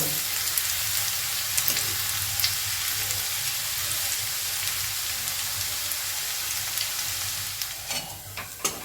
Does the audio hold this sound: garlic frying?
yes